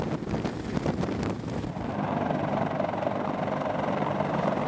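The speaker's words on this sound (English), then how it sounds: "This helicopter was so powerful that it could take off with a maximum weight of" A CH-53 military transport helicopter flies with a steady, dense rotor and engine roar, loud and continuous, with wind buffeting the microphone and no talking.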